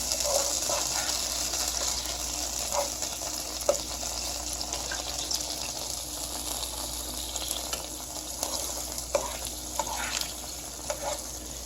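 Teriyaki sauce stirred into a ginger vegetable stir fry with bok choy in a hot pan: a steady wet sizzle runs throughout, with soft scraping stirs and occasional light clicks of the utensil against the pan.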